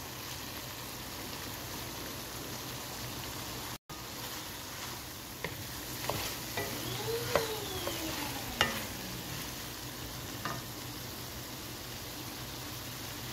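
Vegetable bhaji stir-fries quietly in a pan as fresh coriander leaves go in, giving a soft continuous hiss with a few light scrapes and taps.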